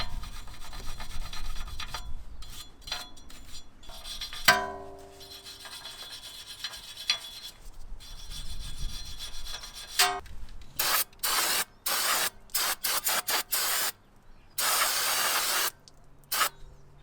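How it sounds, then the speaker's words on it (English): Brake cleaner hisses in sharp repeated spray bursts over a Range Rover L405 brake rotor, after a stretch of scratchy scrubbing with a metal brush, all close up. "clean the surface with metal brush and brake cleaner"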